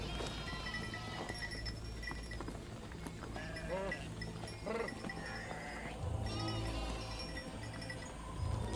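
Goats bleating in a muddy shepherds' camp, several wavering calls from a little distance amid steady outdoor ambience, with faint clanking and hoof sounds around them.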